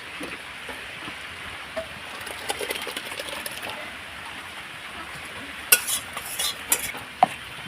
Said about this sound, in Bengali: আমি এবার ধনে পাতাটা দিয়ে দিলাম, দিয়ে একটু নাড়াচাড়া করে নেবো।